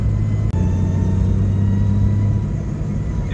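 A 5-speed Jeep XJ with 315,000 miles cruising in second gear, a steady low engine drone and road rumble heard from inside the cab, with one brief dropout near the start.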